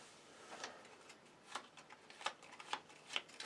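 Cards from the Vampire: The Masquerade – Vendetta board game are shuffled softly, a series of faint riffling bursts recurring about every half second in a quiet room.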